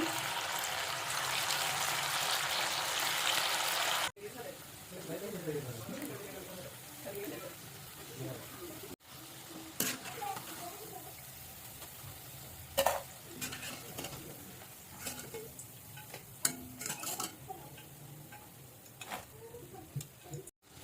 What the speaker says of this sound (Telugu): ఇలా ఒక్కొక్కటిగా వేసుకొని గోల్డెన్ బ్రౌన్ కలర్ వచ్చే వరకు వేసుకోవాలండి